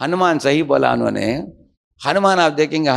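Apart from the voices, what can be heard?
No everyday noises stand out.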